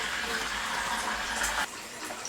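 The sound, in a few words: cold water poured in to top up cider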